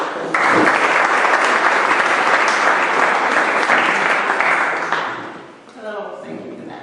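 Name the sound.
audience applause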